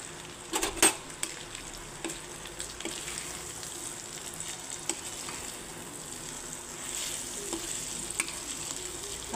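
Pasta and chicken sizzle in a frying pan, with a steady crackle and sharp clicks of a utensil stirring and scraping the pan, close and fairly quiet throughout.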